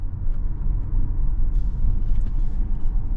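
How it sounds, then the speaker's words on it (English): Steady low road rumble and tire noise inside a 2023 Infiniti QX50 Luxe AWD cruising down the road, continuous and even with no talking. "we're going down the road in this 23 QX50 Luxe with the all-wheel drive"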